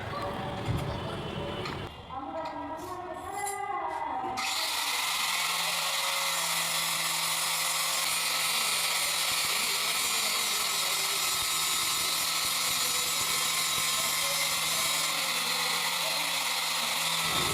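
Handheld power tool fitted with a dish blade grinding a marble molding, a loud, steady, harsh whine running continuously after a brief quieter start.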